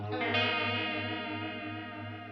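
An electric guitar chord rings through a Walrus Slotva reverb pedal with the treble turned all the way up, sustaining bright and steady with a rich wash of tones that slowly fades, no voices.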